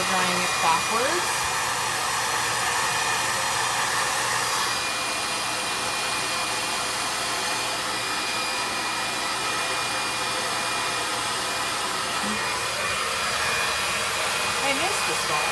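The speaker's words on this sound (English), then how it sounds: "why I'm blow drying it backwards" A handheld hair dryer roars continuously while blow drying hair backwards during a home blowout, its loud steady airflow whoosh shifting slightly in tone as it moves.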